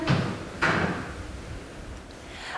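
A door bangs twice in a hospital corridor, probably the quarantine room door, with a sharp hit at the start and a louder one soon after, each trailing into a hollow, echoing room tone.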